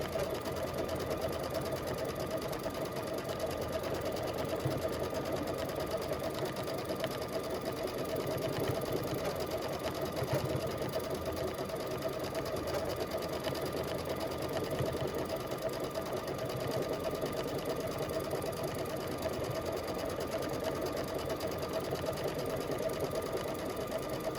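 A Luminaire sewing machine runs nonstop while quilting polar fleece edge to edge, a steady, close, even mechanical hum and needle chatter lasting the whole stretch with no pauses.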